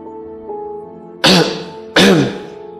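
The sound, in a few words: cough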